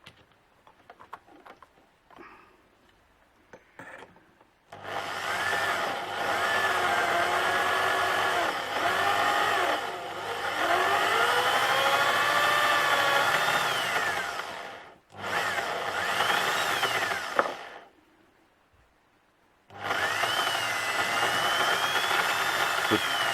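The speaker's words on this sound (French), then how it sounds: "quand on a la perceuse qui est montée" A drill spins a Lee tool deburring the inside and outside of brass cartridge cases, giving a loud steady whir in bursts of several seconds, with short pauses between runs.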